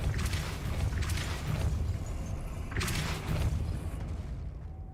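A spell effect in Hogwarts Legacy on PC, a dense rushing whoosh with a couple of swelling bursts over a loud, constant low game rumble, with no speech.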